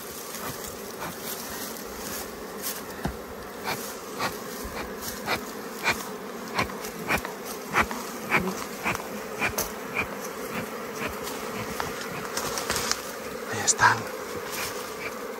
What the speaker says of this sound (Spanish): Ahí está el hermano Crescencio abobando a las abejas, haciéndolas un poquito más bobas.